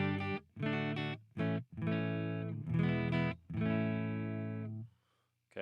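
An electric guitar plays a series of ringing chords and notes through a Fender Princeton reverb amp, each with a bright sustained tone, ending in a short fading tail.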